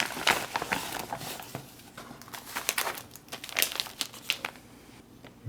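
A thin plastic meal kit bag for civilian apple maple oatmeal, handled close up with irregular bursts of crisp crinkling and rustling.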